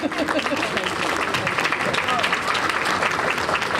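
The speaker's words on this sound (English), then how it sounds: "Please join me in giving Judy Trice one of our UAPB Golden Lion roaring applause" Audience applause fills a university conference hall on educational access, dense and steady throughout, with scattered voices mixed into the clapping.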